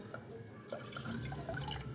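Water is poured into a pressure cooker holding soaked millet: a quiet, continuous trickling and splashing, faint and close.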